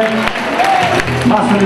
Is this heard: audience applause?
yes